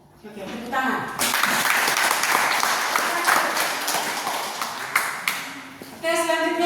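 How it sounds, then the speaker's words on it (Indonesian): A classroom group claps together in a burst of lively applause lasting several seconds before fading, with voices speaking briefly before and after. "Oke, tepuk tangan."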